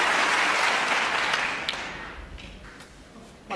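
Sustained, dense audience applause at a live snooker match, loud at first after a century break, then thinning and fading toward the end with a few scattered claps.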